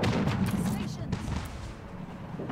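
Mounted cannons fire in Anno 1800 as a dense, rumbling barrage of booming blasts. The roar is loud and continuous, with a sharper report near the middle.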